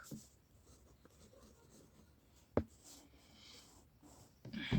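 Numbers written on paper with a pen or pencil during a maths lesson, a soft continuous scratching with a sharper tap midway and a louder stroke burst at the end, close and fairly quiet with no talking.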